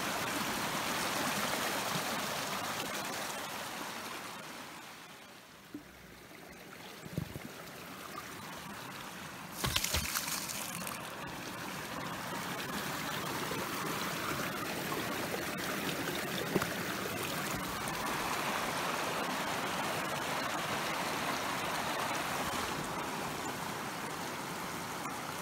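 Steady rushing and gurgling of a mountain stream along the Alexandra and Castleguard route, flowing continuously nearby, with a few brief knocks partway through.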